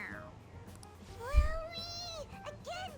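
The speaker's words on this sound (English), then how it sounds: "It meows when you press on its head." A cartoonish cat meow from the Persona 5 Royal video game: a few rising and falling mewing calls, fairly clear and close, over quiet background sound.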